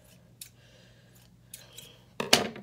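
Scissors snip the ends of synthetic faux loc hair in a few separate, close cuts, and the last snip is the loudest.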